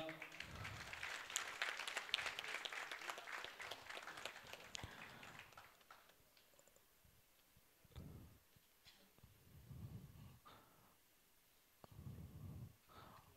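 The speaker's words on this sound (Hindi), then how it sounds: "अब तालियां और ज्यादा होंगी" Audience applause at an Urdu poetry evening (mushaira) in Amravati, 2023: a long dense burst of clapping that swells early and then fades, followed by a few shorter, quieter rounds of applause with gaps between them.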